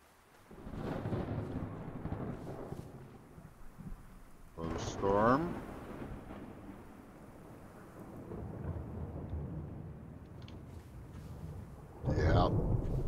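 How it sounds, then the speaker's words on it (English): Thunderstorm in a video game: heavy rolling thunder crashes twice over a steady wash of rain and wind, loud and close throughout. "Storm."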